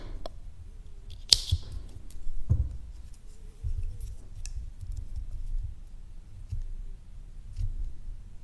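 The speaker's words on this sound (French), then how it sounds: "Donc là je vais couper l'excédent." Scissors snipping excess crochet yarn, a sharp close snip near the start and a second softer cut, then quiet handling rustle with faint clicks.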